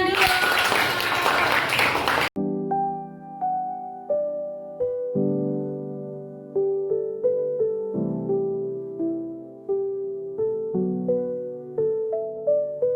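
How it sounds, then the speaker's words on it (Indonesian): Audience applause at a school teachers' dissemination event, a dense burst of clapping for about two seconds that cuts off abruptly into soft melodic music. "Beri tepuk tangan dulu."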